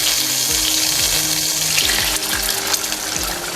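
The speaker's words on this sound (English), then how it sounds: "Time to add half a cup of water." Half a cup of water hits a hot pan of frying chicken momos, a loud rushing hiss and bubbling sizzle that holds strong throughout.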